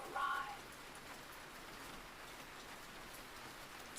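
Steady rain falls in an even, quiet hiss with a soft patter throughout, sounding close and calm, with no voice over it.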